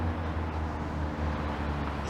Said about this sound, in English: As an unnecessarily loud car rolls by.